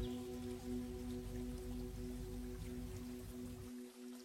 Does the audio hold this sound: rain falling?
yes